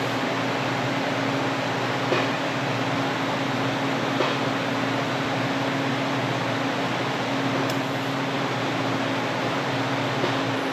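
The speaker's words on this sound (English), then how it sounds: "I've got the TIG torch putting argon in here" Argon shielding gas hisses steadily from a TIG torch into a 1959 Allis-Chalmers D-17 tractor fuel tank, a constant broadband hiss with a low steady hum underneath and no talking.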